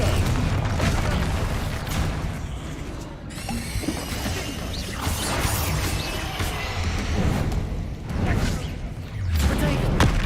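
Repeated blasting-curse explosions from a Harry Potter video game, dense crashing bursts layered over steady rumbling game action throughout, loud and close with spoken spell incantations mixed in.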